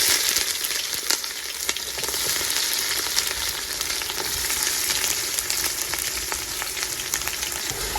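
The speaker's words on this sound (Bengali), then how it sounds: "পেঁয়াজ একদম লাল লাল করে ভেজে নেব।" Chopped onion sizzles steadily in hot oil with dried chillies, bay leaves and whole garam masala, a dense continuous frying crackle with occasional sharper pops, close and fairly loud with no voices.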